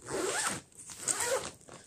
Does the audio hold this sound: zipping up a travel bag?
yes